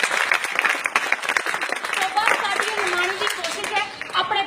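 An audience at a public speech in Punjab breaks into dense, steady clapping that holds for the whole stretch, close and loud, with voices mixed into the crowd noise.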